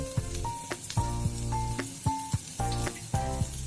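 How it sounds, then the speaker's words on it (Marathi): Garlic ginger paste sizzles in a pan with onions fried until pink for Khandesh-style shev bhaji, a moderate crackling fry broken by repeated stirring clinks of a utensil against the pan. "त्यात मी आता टाकते लसूण आल्याची पेस्ट।"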